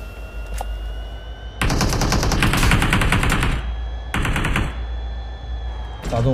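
Automatic gunfire in a shooter video game, two sustained bursts of rapid shots with a short burst at the end, loud and close over a steady low background hum.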